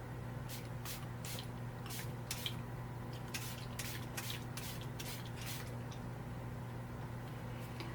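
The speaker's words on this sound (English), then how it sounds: "it does have just this nice normal spray nozzle here" Makeup setting spray mists from a plain spray nozzle onto a face in a series of short hissing bursts, about a dozen quick pumps in uneven clusters, close and clear over a faint steady room hum.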